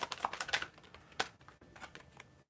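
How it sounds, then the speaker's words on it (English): Tarot cards shuffled by hand at close range, a quiet run of crisp riffling snaps and soft papery rustles in uneven bursts, with no voice. "I'm having some tough shuffling for this question for some reason."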